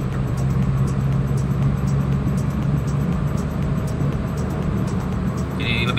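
A 1994 Toyota Corolla drives along after engine tuning, its engine a steady, continuous hum with road noise throughout, fairly loud and close, with no talking over it.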